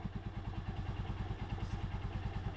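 Honda Supremo motorcycle engine running steadily up close, with a fast, even rhythmic chugging and a metallic rocker-arm clatter ticking over it, alone without talk.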